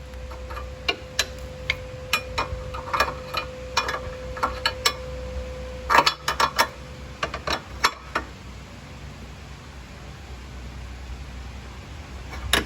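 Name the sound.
tightening exhaust fitting with a 22mm wrench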